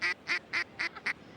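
A Red Bandit duck call blown by mouth, imitating duck quacks: five sharp, nasal quacks in an even rhythm, close and fairly loud, with no talking over them.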